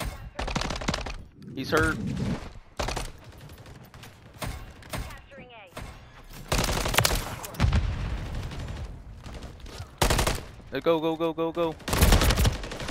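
Repeated bursts of video game gunfire from a Highrise control round crack loud and close, with short rapid volleys separated by brief gaps, while players speak briefly over the shooting.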